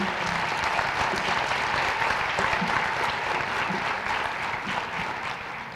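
A crowd at a teacher of the year awards ceremony claps continuously for a Willow Canyon honoree, a sustained wash of applause with no talk.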